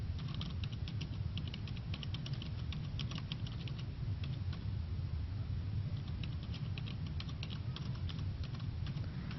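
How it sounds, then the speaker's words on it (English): Rapid clicking of keys on a computer keyboard, steady bursts of typing with brief pauses, close and fairly quiet over a low background rumble. "I am now typing in C++ code"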